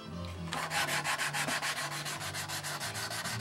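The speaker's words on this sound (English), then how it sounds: "I don't want to go sanding it all off here or anything" Rhythmic rasping strokes of sandpaper on a wooden ukulele body, about six per second, steady and close, with no talking.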